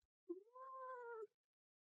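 A single clear cat meow, rising then holding steady for about a second, close and fairly quiet, with silence around it.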